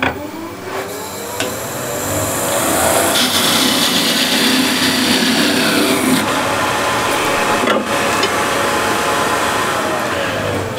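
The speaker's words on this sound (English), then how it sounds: "So I can part this off entirely now." A wood lathe parts off a turned lid, a loud continuous whirring scrape of the tool cutting into spinning wood, with the pitch and texture shifting in a few places as the cut deepens.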